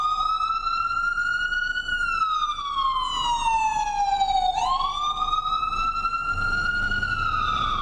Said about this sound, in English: I can hear you're battling the sirens there while they pass you.